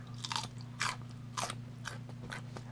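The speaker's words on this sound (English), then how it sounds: "Very crunchy. If you got no teeth, you can't chew it." Raw okra is bitten and chewed close up, with loud crisp crunches at a steady chewing rhythm over a low steady hum; no talking.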